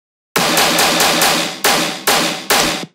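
Stereo layer of a heavy electronic bass sound, played alone: loud, broadband, grinding pulses in a stuttering rhythm, four quick hits, then a longer sustained one, then three more hits before it cuts off.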